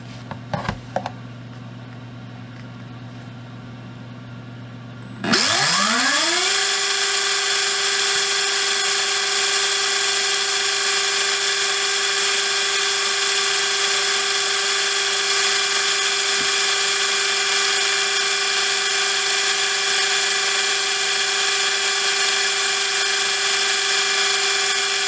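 Hobbywing 17.5T V10G4-R brushless motor on a test run: a sudden spin-up to a steady, loud high-pitched whine that holds unbroken for about twenty seconds, with no talking.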